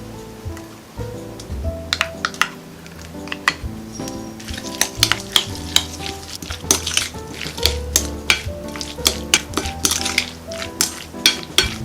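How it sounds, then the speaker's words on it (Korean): A spoon scrapes and clinks against a bowl as canned corn kernels are mixed with sugar, salt, pepper and mayonnaise, making repeated sharp metallic taps over soft wet squelching, close and clear, with no talking. "옥수수 콘에 설탕 반스푼, 소금 조금, 후추 약간, 마요네즈 두 스푼을 넣고 잘 섞어 주었어요."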